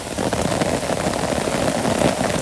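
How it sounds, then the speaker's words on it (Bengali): Steady rain falls in a Bangladeshi village during the rainy season, a dense continuous patter on surfaces that stays even and fairly loud, with no voices. "তো আপনারা একটু আমার সাথে বৃষ্টি দেখেন"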